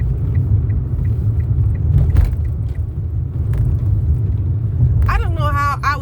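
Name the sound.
Honda CR-V car rumbling while driving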